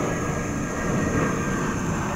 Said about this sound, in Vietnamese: Khổ máy bay bay mà trên trời mà ồn quá.